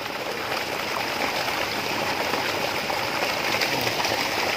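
Stream water rushes and flows steadily up close, a dense, even hiss-like babble with no pauses and no voices.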